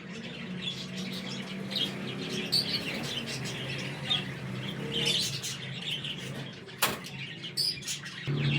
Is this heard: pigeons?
yes